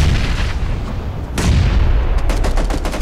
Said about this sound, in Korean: 어, 수류탄, 수류탄, 날라왔어요